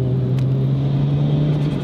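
A turbocharged JDM car with a big turbo and heavy lag drones loud and close, a steady low engine rumble with a strong humming tone under a wash of road and wind noise, and no speech.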